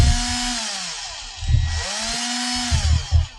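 A handheld power drill twists strands of pure silver wire together while building a USB cable, its motor whining steadily up close and rising and dipping in speed over a few seconds, with no talking.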